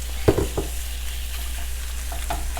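Chicken browning in a skillet for a Moroccan chicken tagine with apricots and almonds, giving a steady close sizzle with a few brief clatters of stirring near the start, no voices.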